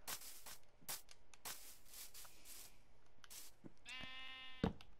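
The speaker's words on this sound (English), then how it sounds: "Yes, yes, sheep, I understand." Sheep bleating in the video game Minecraft, a couple of short bleats near the end against quieter clicks and game sounds, with no talking.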